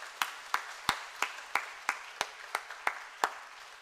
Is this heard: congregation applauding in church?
yes